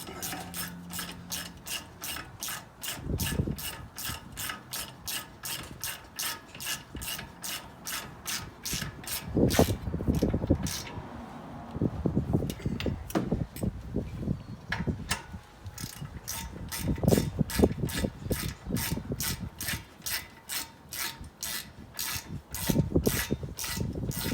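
Ratchet wrench tightening a bolt during a brake job on a 2011 Buick Enclave, rapid repeated clicking strokes close up, steady at first and then in uneven bursts with some rubbing and clanking.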